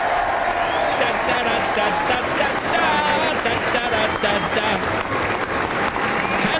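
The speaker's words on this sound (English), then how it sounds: "Is that the parents applauding?" Parents clap and cheer as a crowd, a dense, steady wash of applause that continues without a break, with voices mixed in.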